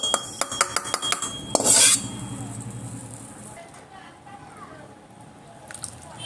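Roasted dried fish (sukat) being rinsed in water in a kitchen vessel, with sharp clinks of metal utensils at the start, a brief louder splash, then soft wet handling sounds.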